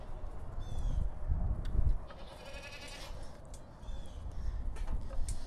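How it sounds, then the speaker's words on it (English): Goats bleat at milking time on a goat farm, giving several short bleats at moderate distance against a low, rustling background. "So it's time for the goats to get milked."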